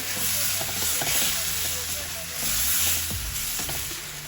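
Hot and spicy prawns sprinkled with sesame seeds frying in a pan, a steady close sizzle and hiss with occasional soft stirring scrapes.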